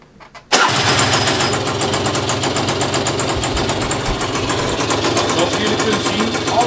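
A small 180cc scooter engine cranks and catches abruptly after a brief quiet moment, then settles into a steady, buzzing idle with a rapid regular pulse.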